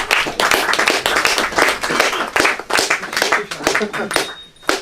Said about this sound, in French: Qu'on peut applaudir s'il vous plaît.